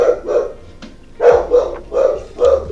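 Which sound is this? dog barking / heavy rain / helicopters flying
dog barking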